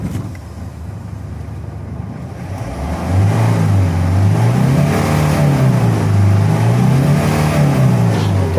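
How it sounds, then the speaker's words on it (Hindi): A Mahindra Xylo with a faulty mass air flow sensor and blinking check light idles, then is revved loud and close, settling into a steady, wavering high idle with no talk over it. "थोड़ा सा रेस देना इमरान भाई जरा"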